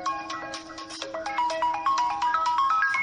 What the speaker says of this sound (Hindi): और अब फोन कर रही है।